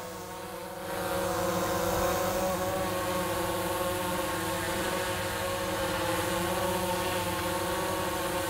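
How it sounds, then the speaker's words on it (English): A DJI Mavic 2 Enterprise Dual drone flying backwards hovers close by with a steady, high-pitched whine of buzzing propellers and layered motor tones, rising slightly in level after a second and then holding constant. "I'm going to back the drone up."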